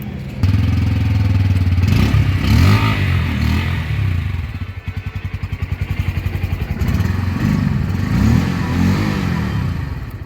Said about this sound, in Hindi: आपको शो कराता हूँ पल्सर का। इसमें आपको अंडर वैली एग्जॉस्ट मिलता है।